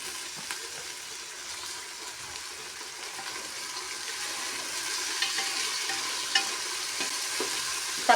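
Sliced onions fry and sizzle in a pan while being stirred for a home-cooked dish, a continuous close crackle with faint scraping of the spoon and no talking.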